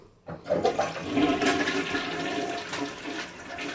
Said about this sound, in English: So, and I pour this down the toilet. So it's going to flush that.